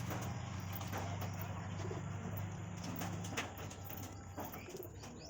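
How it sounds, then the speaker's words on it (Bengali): Madras pigeons coo in low, throaty rolling calls, steady for the first few seconds and then fading, with a faint chirp and rustle of birds nearby. "এত সুন্দর পায়রা এখানেই পায়রা কিন্তু ভীষণ উড়া আছে"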